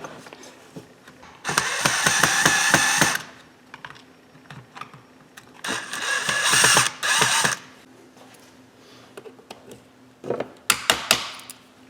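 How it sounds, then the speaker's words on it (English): Ratchet clicking in quick bursts while backing out A-arm screws on a Traxxas Rustler RC car, close up, with pauses between runs and a few sharp single clicks at the end. "next step is to go ahead and get these A-arm screws out of here"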